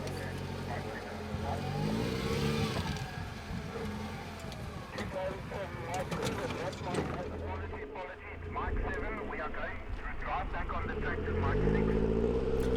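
A 4x4 on big mud terrain tires climbs a steep off-road course, stops at a tight turn and reverses during Bridgestone 4x4 Club Challenge 2017 qualifying, its engine revving and labouring under steady narration.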